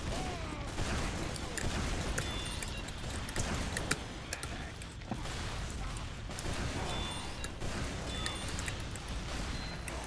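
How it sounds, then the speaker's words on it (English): Rockets whooshing past and bursting in a Team Fortress 2 match, a dense, continuous barrage of blasts, ticks and crashes layered with game noise at steady loudness throughout. "there was a set of rockets that flew by my face"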